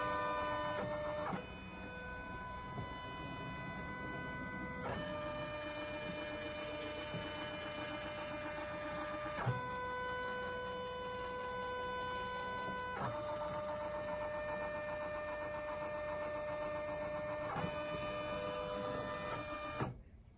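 Poolin EOC06 embroidery machine running a trace on a quilt in a magnetic hoop: a steady motorized whine with tonal harmonics, shifting pitch in distinct segments as the carriage moves, continuous and close with no talking.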